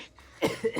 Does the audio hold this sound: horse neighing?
no